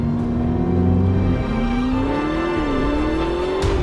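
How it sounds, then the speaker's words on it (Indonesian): Ferrari SF90 Stradale plug-in hybrid with a twin-turbo V8 idles close by without electric mode, a loud steady drone with a low hum that drifts slightly upward in pitch, alone with no talk. "maka langsung terdengar suara mesin sesungguhnya dari mobil ini"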